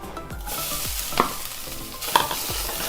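Grated coconut is stirred and roasted in hot ghee in a pan for an elanji filling, giving a steady close sizzle with a few sharp spoon scrapes against the pan.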